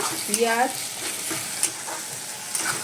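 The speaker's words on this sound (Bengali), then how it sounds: "পেঁয়াজ, আদা, রসুন আর টমেটো ভালো করে কষানো হচ্ছে।" Onion, ginger, garlic and tomato sautéing in a pan, a close, steady sizzle with a few stirring clicks over a short stretch, and a brief vocal sound near the start.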